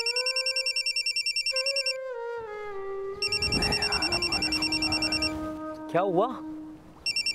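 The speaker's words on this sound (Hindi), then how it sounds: "फोन तो रिसीव कर लो" A telephone rings in repeated electronic bursts at the start and again at the end, loud and close, while a man and another person talk in Hindi between the rings.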